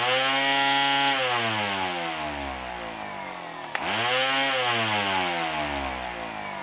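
A lightweight chainsaw with its blade removed runs nearby with no cutting load, revving up and dropping back twice in loud, smooth engine sweeps.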